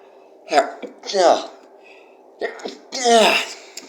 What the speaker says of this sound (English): Apologies, sneeze there.